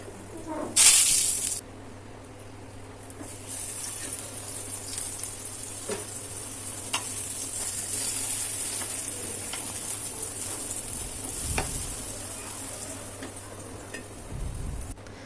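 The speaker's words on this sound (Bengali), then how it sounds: "আমার সবগুলো মানকচু ভাজা হয়ে গেছে।" Slices of elephant-foot yam (mankochu) fry in oil under a lid, giving a faint, steady sizzle with occasional soft pops and a louder clatter near the start.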